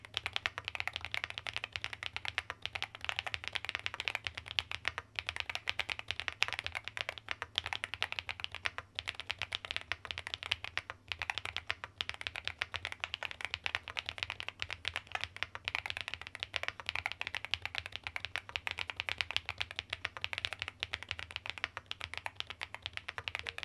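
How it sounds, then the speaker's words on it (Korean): Continuous rapid typing on a wireless mechanical keyboard fitted with Cocoa Cream linear switches and lubed stabilizers, steady close-up keystroke clatter with no pauses and no voices. "키보드를 무선으로 연결해서 타건 테스트 한번 진행해 보도록"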